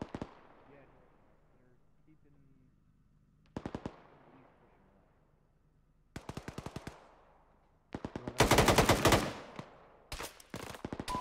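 Automatic and single-shot gunfire in the military simulation game Arma during a Ranger unit assault on a two-story barracks, coming in short bursts and a dense sustained volley, some shots distant and others close and loud, with faint voices in between.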